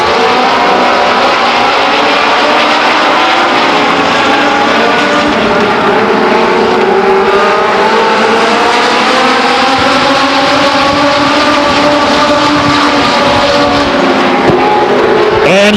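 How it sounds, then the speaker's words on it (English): Legends cars racing at Stockton 99 Speedway, several engines droning and revving together in a loud, continuous pack, pitch rising and falling as the cars circle past. "And we're set for 30 laps of main event racing with the legends."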